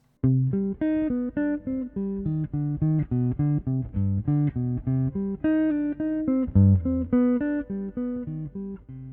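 Clean jazz guitar slowly picks a melodic minor study, an evenly paced line of single notes and paired intervals, each note ringing clearly in a steady rhythm with no other sounds.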